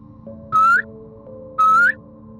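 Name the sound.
person whistling twice in front of abandoned house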